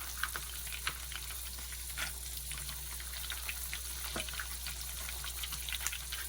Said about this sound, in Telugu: ఈ నెయ్యిలో మనం డ్రై ఫ్రూట్స్ అనేది కొద్దిగా ఫ్రై చేసుకోవాలి